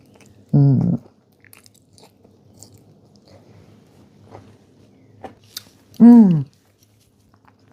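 Someone bites into a rhubarb almond tart: two crisp crunches spaced several seconds apart with faint chewing and small clicks between them, close up and without talking.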